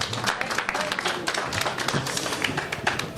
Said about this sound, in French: on peut applaudir la maman